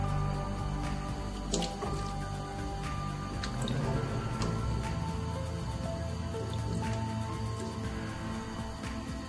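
Yam being poured into a pot of water for vegetable yam porridge with prawns, giving soft wet splashes, drips and squishy plops scattered over several seconds, close but fairly quiet.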